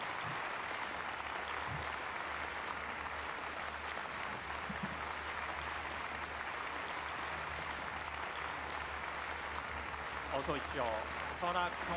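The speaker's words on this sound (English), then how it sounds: "Please welcome Chair Barroso with a big round of applause" A peace prize ceremony audience applauds to welcome a speaker to the stage, a steady wash of clapping heard at moderate distance, with a brief voice emerging near the end.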